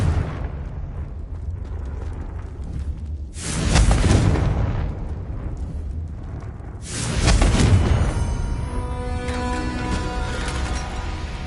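Two big booming blasts roll out several seconds apart from a Confringo fire spell in Hogwarts Legacy, each a loud, close eruption that decays into rumbling debris and crackle, with a low ringing tail after the second.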